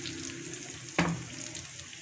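Chicken teriyaki sizzles steadily in a pan of strained sauce, a close, continuous frying hiss with one sharp burst of crackle partway through.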